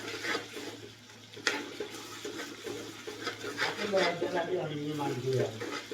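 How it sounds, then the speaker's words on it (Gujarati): Crushed garlic and chilli roast in a pan with a steady, close sizzle and occasional stirring scrapes, while faint voices carry on in the background. "પેલા મરચું શેકવા દઈશું બરોબર"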